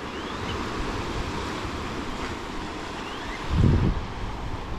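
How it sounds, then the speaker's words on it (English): Ocean surf washing onto a beach near a house, a steady broadband wash with a slightly louder wave surge near the end, mixed with some wind noise on the microphone. "Here's the ocean."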